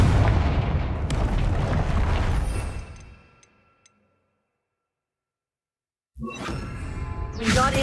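A blasting-curse explosion from the Hogwarts Legacy video game: a loud, rumbling boom that decays into a short silence, then a second burst of blast noise at the end.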